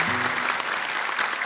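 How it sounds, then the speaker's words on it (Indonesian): Steady audience applause for two contestants on a televised Quran memorization competition stage, dense even clapping filling the whole moment without voices. "boleh tepuk tangan dong untuk dua peserta ini"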